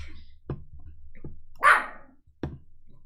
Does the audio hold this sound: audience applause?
no